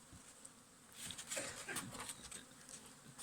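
A dense buzz of many honeybees swarms close by at an opened hive in January, steady and droning, with a few louder passes rising over the hum.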